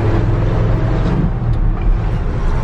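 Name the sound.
1965 Ford F100 truck driving after new clutch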